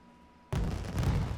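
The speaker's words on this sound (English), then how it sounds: "That was a lot of fireworks" A burst of fireworks explodes in the Creativerse video game, a sudden loud onset followed by dense, continuous crackling and booming that stays loud to the end.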